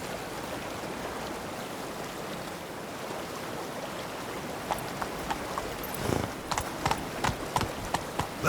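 Horse hooves clip-clop as a horse is ridden in The Witcher 3: Wild Hunt, starting after a stretch of flowing water or rain-like wash and then settling into a steady, close rhythm of hoofbeats.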